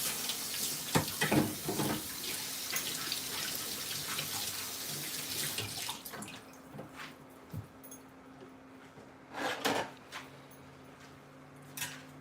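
Water running from a kitchen tap while rice is washed for a vegetable and pumpkin stir fry, a steady broadband rush that thins out midway, with splashing bursts and a low hum underneath.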